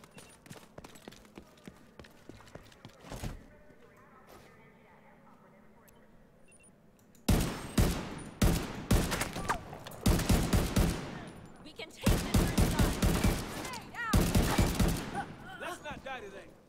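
Gunfire in the video game Tom Clancy's The Division 2: after a quiet stretch with one early shot, loud rapid bursts of automatic fire crackle in several clustered volleys with short pauses between them.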